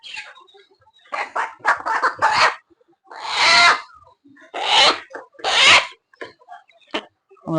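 Chickens sick with a cold, runny-nosed, give a run of short, close clucks and squawks in separate bursts, with brief quiet gaps between them.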